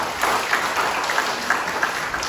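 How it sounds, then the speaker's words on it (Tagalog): A church congregation claps together in a steady round of applause, a moderate crackle of many hands with light rhythmic peaks, brief and alone. "Sa pangmalakas na palakpak sa ating Panginoon, mga kapatid."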